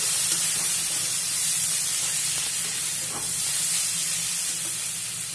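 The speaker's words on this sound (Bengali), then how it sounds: "এখন 3টা কাঁচা লঙ্কা আমি চিড়ে রেখেছি, সেটা দিয়ে দিচ্ছি আর 1 চামচ জিরে গুঁড়ো দিয়ে দিচ্ছি।" Slit green chillies and cumin powder sizzle in a hot pan, giving a loud, steady, close hiss of frying that carries on without a break.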